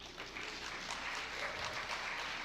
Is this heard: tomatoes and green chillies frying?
no